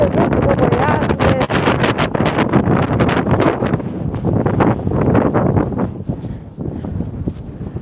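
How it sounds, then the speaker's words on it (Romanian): Strong wind buffets the microphone outdoors in Spain, roaring in loud gusty bursts throughout, with voices talking underneath. "Ce bate vântul"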